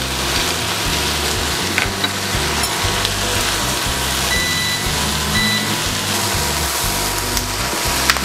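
Tomato paste sizzling and frying in a hot pan for a sisig shakshuka, a loud, steady crackle that holds evenly throughout, with occasional faint clinks and no talking.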